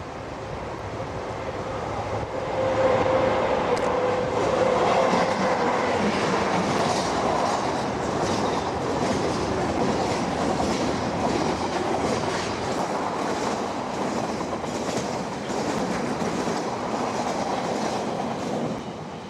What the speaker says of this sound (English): With the line clear, the special eventually gets underway for the second day of its North Island tour.